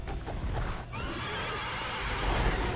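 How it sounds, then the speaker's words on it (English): The horse boss Chiron in Devil May Cry 3 lets out a drawn-out neigh amid a dense, rumbling game soundscape, with no speech. "the good old horse. I forgot his name. Chiron."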